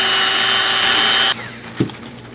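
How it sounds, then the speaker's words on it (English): A rotary tool with a very thin drill bit whines loudly and steadily while boring a shallow hole into the back of a golf ball, then cuts off abruptly, leaving a faint hum and a brief soft knock. "I'm going to take my rotary tool, and I'm going to drill a hole in the back of this"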